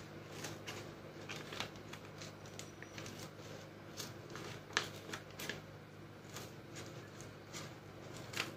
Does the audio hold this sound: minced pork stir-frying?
no